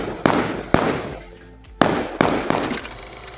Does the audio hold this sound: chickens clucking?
no